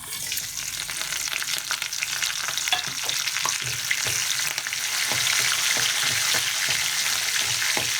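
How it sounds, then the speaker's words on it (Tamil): Mustard seeds, urad dal, cumin, garlic, curry leaves and dried red chillies crackle in hot oil for a kadhambam sambar, a dense, steady sizzle close by with scattered sharp pops throughout, growing slightly louder toward the end. "ஆயில் சூடானதுக்கப்புறமா கடுகு உளுந்தம் பருப்பு, சீரகம், பூண்டு, கருவேப்பிலை, காஞ்ச மிளகாய் எல்லாத்தையும் சேர்த்துடலாம்"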